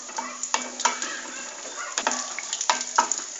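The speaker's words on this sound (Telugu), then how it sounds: "దాన్ని ఫ్రై చేసుకోండి" Nuts and raisins frying in a pan for vermicelli payasam, with a steady close sizzle broken by several sharp stirring scrapes and clinks of the spoon against the pan, no voices.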